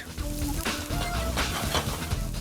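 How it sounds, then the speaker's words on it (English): Chopped onions frying in hot olive oil give a steady close sizzle with soft crackles and stirring, plus a faint tone or two in the background. "add chopped onions to hot olive oil and cook until soft"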